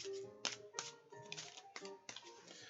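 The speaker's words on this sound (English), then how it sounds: "I'll give it 5 more shuffles." Tarot cards being shuffled up close, a quiet run of soft riffling taps and flicks in quick uneven bursts, with no talking.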